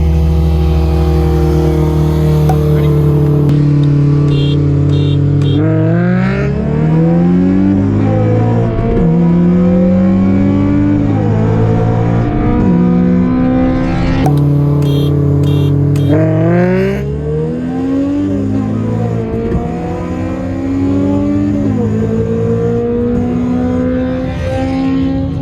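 A 9th gen Honda Civic Si and an AP1 Honda S2000 accelerate hard side by side in a roll race, engines revving loudly and rising in pitch through repeated gear changes, heard close up from inside a car.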